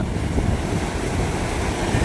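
Waves wash steadily onto a Chennai beach near a fishing market, a continuous broadband roar of surf mixed with wind buffeting the microphone, with no voices over it.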